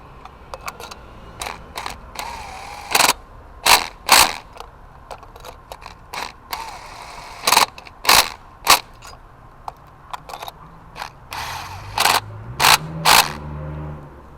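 Ratchet wrench clicking in sharp bursts while torquing spark plugs and ignition coils on a Ford Focus, close and loud, with a low tonal hum building near the end.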